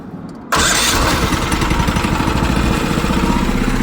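A mini truck go-kart engine fires up with a sudden loud burst after a brief quiet moment, then settles into a rapid, rough, pulsing run close by.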